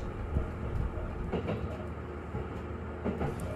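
A train on the rural Kururi Line in Chiba runs along the rails with a steady low rumble, and faint rhythmic clicks come through at a moderate distance, with no voices.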